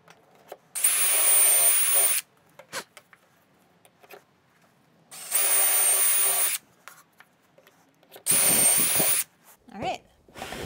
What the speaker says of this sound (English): So now I'm going to clamp this board down and drill away.